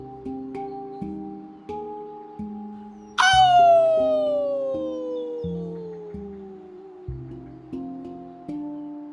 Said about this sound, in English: he released an echoing howl that pulsated through the alcove like invisible lightning